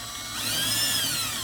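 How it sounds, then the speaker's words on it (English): A drill pre-drills screw holes for monitor bezel brackets on a Dell 2007FP 20-inch display, its whine rising in pitch and holding steady, close and clear with no talk. "We're just gonna pre-drill holes for the screws."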